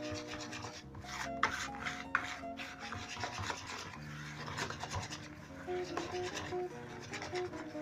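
Spaetzle dough being whisked by hand in a bowl, the batter growing thick and heavy: continuous close scraping and rubbing strokes with faint clicks, fairly quiet throughout.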